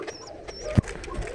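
A Kuwaiti ghiya koka pigeon gives a short, close coo with a low throaty pulse in the middle of a brief, quiet moment.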